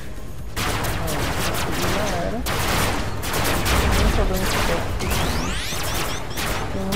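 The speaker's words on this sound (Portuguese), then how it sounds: "O cara não para de atirar em mim" Heavy, continuous gunfire in the video game Robocraft, dense volleys of loud shots layered with mechanical whirs and rising synthetic sweeps, with brief voice sounds underneath.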